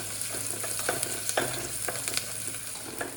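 Chopped garlic fries in a hot pan for injipuli, a steady crackling sizzle broken by light scrapes and taps of stirring, with no voices over it.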